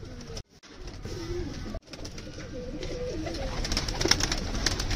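Pigeons coo in low, soft, repeated calls close by, layered over a hiss of background noise with a couple of brief dropouts.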